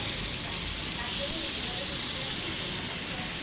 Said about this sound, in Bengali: প্রথমে পটলগুলো ভেজে নিই